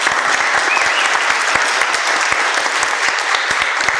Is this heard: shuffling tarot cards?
no